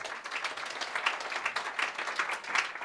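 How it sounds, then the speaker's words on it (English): Seminar audience at a furniture store applauding a guest sleep expert, a moderate, even patter of many hands clapping at a slight distance, fairly quiet, with no talking over it. "I wouldn't clap until I've done something"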